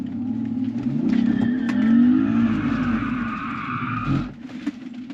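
A rear-wheel-drive Subaru Outback strains under acceleration and bogs down, its engine note droning and wavering with a tire-squeal edge for about four seconds before cutting off abruptly. It is close and fairly loud, with no voices.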